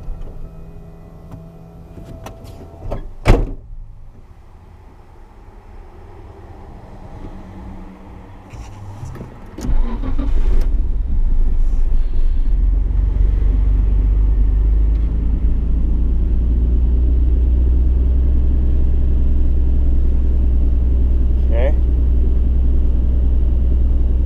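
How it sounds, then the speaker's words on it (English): A Nissan R32 GTR cranks and fires, its engine catching after a few seconds and settling into a steady, loud, close rumbling idle with no talking. "So what I'll do is I'll start up the car and I'll rush to it right away"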